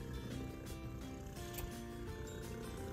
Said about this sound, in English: I apologise for the loud purring. She's a very happy girl.